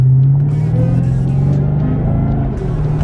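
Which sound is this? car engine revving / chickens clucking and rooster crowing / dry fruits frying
car engine revving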